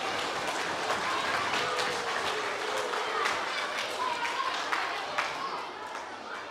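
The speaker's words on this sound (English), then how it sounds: "Give our whānau leaders another past, present, future round of applause" A steady round of applause from the crowd at a senior school prizegiving, dense and continuous, with voices cheering over it before it fades slightly at the end.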